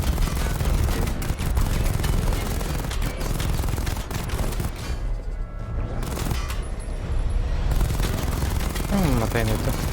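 Weapon fire from a video game comes in dense, loud volleys of rapid shots that mix with explosive effects. There is a short quieter gap in the middle before the barrage starts again.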